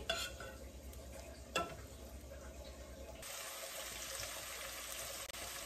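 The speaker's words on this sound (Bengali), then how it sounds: "ভাজিটা, ককটেল ভাজিটাও বসিয়ে দিই।" Cocktail bhaji frying and being stirred in a pan at home, a soft steady sizzle with scraping stirs, close and fairly quiet, with no voices over it.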